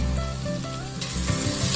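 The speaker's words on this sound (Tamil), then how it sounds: "நல்லா வதக்குங்க." Onions and three green chillies saute in hot oil in a pan for chicken biryani, a steady close sizzle with faint stirring scrapes throughout.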